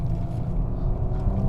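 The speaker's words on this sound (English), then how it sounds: "the engine sounds actually pretty good for a little 3-litre V6" A 2017 Audi RS5 with a 3-litre V6 engine drones steadily while driving, a low continuous rumble filling the cabin with no speech.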